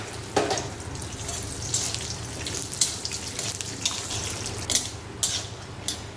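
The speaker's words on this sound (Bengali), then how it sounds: "কড়াইয়ের মধ্যে তেল দিয়ে এবার বাদামটা ছেড়ে দেব" Peanuts frying in hot oil in a wok for a Bengali kachkola kopta dish, a steady close sizzle with sputters and crackles running throughout.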